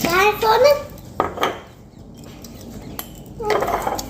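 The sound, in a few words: spoon clinking in a cup while adding instant coffee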